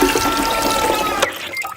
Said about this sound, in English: Now let's try flushing away this Lego man.